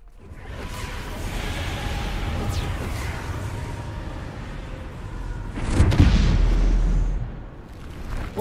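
A Bombarda spell in the video game Hogwarts Legacy gives a rising whoosh and then a heavy, rumbling explosion that swells and fades. Low background noise carries on around it.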